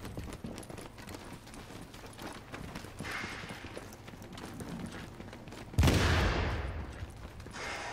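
Gunfire in a multiplayer shooter video game: a steady patter of game noise and faint pops, then one loud, sharp blast near the end that rings out and slowly fades.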